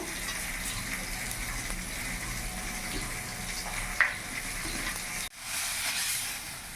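Fish frying in hot oil for a Bengali bhorta dish gives a steady, loud hiss and crackle. One brief sharp tick sounds about two thirds of the way in, then a sudden cut and softer hiss.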